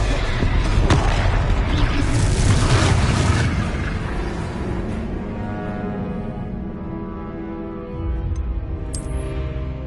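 Confringo spell explosions in the Hogwarts Legacy video game: a dense, booming blast rumbles at first, then fades into a lower, ringing crackle, with faint magical chimes near the end.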